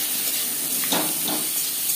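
Raw green mango pieces frying in a pan for a sweet mango chutney, with salt and a little turmeric added, giving a soft steady sizzle and a couple of brief stirring scrapes.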